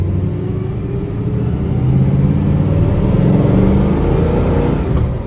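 Carbureted off-road vehicle engine with an Edelbrock or Quadrajet carburetor accelerating on the road, a loud close rumbling rev that climbs in pitch and holds, continuous with no talking.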